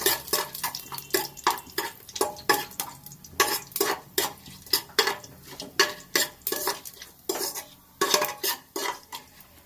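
Ingredients for avarakai pulav tossed in a pan, a steady series of metallic clanks and scrapes from a spoon against the pan under a light sizzle, rhythmic and close, no speech.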